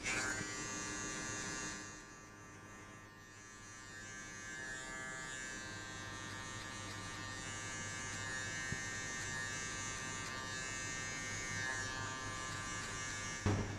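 Electric hair clippers buzz steadily through a barber's short sides and back haircut set at a 1.5 guard, a close, continuous motor hum with slight shifts in load as the blades pass through hair.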